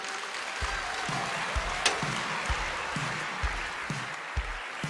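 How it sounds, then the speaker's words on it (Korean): Audience at a one-day Atomy marketing seminar claps steadily, a dense wash of hands sustained throughout, with soft periodic low thuds pulsing beneath. "소개해주신 조윤아 샤라노스 마스터님께 큰 박수 부탁드리겠습니다"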